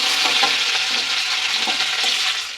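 Chopped garlic and chili sizzling in hot oil with soybean chunks, a steady loud broadband frying hiss with a few soft stirring scrapes, no voices.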